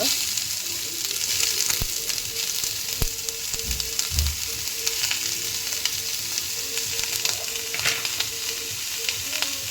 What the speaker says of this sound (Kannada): ಸ್ವಲ್ಪ ಚೆನ್ನಾಗಿ ಫ್ರೈ ಮಾಡ್ಕೋಬೇಕು ಅದನ್ನು.